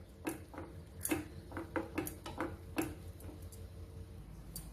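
Soaked poha is being stirred into a melted sweet mixture in a pan for a Krishnashtami prasadam, with repeated soft spoon scrapes and light clicks against the pan at a steady, close rhythm and no talking.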